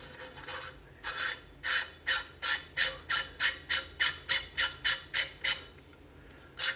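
A castle nut threaded onto an AR-15 lower receiver gives about fifteen close, even rasping strokes in a steady rhythm, with quiet pauses before and after and no talking.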